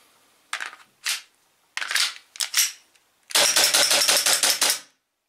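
Slide of a Smith & Wesson M&P9c airsoft gas blowback pistol racked by hand: four sharp metallic clacks at uneven intervals, then a rapid burst of repeated mechanical clatter, close and loud with no talking.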